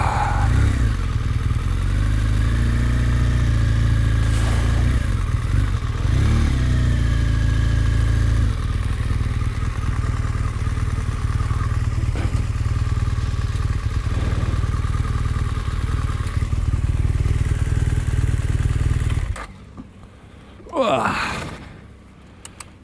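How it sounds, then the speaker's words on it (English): A BMW R1200 GS motorcycle engine drones steadily and loudly while riding, a continuous close rumble with slight rises, cutting out near the end where a brief rev or passing sound follows. "Yeah, good to be out on the bike, to be honest with you."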